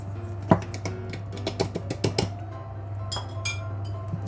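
Toasted rice scooped into a glass bottle: a few light clinks and taps of a spoon against glass, spaced irregularly, quiet, with no talking.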